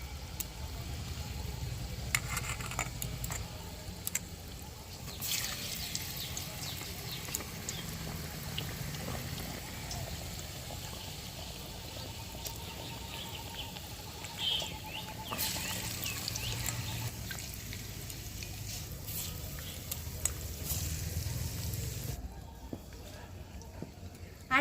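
Semolina pocket singaras slipped into moderately hot oil, a steady soft frying hiss holding through the whole stretch at low level, with faint background sounds and brief louder bursts now and then.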